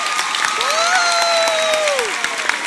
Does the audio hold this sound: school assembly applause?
yes